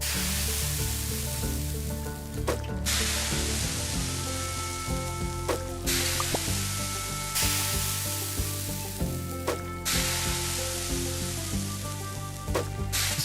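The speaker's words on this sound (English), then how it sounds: "Better start frying these up." Food sizzles and fries in a pan in the video game Space Chef, a continuous hissing crackle with bursts that rise and fall repeatedly, alongside scattered game tones and clicks.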